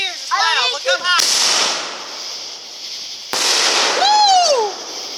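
Fireworks bursting at an A.S.I. fireworks show: two loud sharp explosions, each followed by long crackling, hissing rumble, with high whistling rising and falling tones before each blast and near excited voices around.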